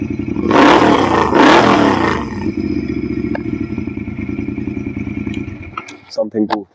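A Royal Enfield Continental GT 650 twin idles low at around 1200 rpm with a steady, loping thump. Someone talks loudly over it at the start, and the engine drops away near the end.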